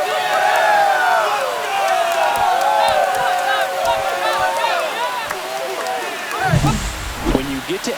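Home crowd roaring after a walk-off extra-innings home run by the Mets against the Giants in MLB The Show 25, a loud sustained cheer with bright whistles over it and a commentator talking throughout.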